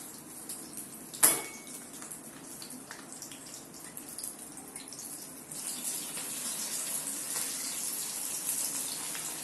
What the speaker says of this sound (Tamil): சூப்பராக அந்த எண்ணெயில் சிக்கன் 65 நல்லா புரியுது